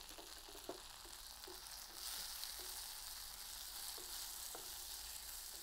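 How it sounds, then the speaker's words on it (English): Peas frying in a pan as tomatoes are added, giving a steady close sizzle with a few soft stirring taps and a slight rise in frying hiss partway through. "So now we are going to add our tomatoes."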